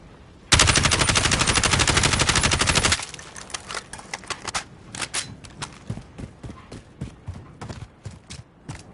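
A SCAR rifle in Call of Duty fires a sustained rapid full-auto burst for about two and a half seconds, followed by a series of short bursts and single shots with brief gaps between them, loud and close with no voices.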